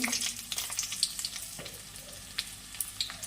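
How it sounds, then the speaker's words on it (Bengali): Whole garam masala and cumin seeds sizzling in hot mustard oil in a kadai, a short bright crackle and hiss heard close with a few light pops, no talking. "এখন আমি কড়াইতে অল্প সরিষার তেল দিয়ে দেব। তেলটা আমার গরম হয়ে গেছে। ওর মধ্যে আমি গোটা গরম মশলা, গোটা জিরে"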